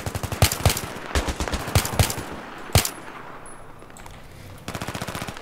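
Gunfire in Battlefield 3 comes as rapid bursts of automatic fire mixed with single heavy shots. The shooting is close and punchy, pauses briefly, then resumes with a steady rattling burst at the end.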